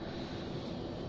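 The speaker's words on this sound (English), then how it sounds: "You can hear the engine vaguely in the background boot up." Airliner engine spooling up in Flight Simulator X, a steady broadband roar with a low rumble, continuous and even throughout, with no voices.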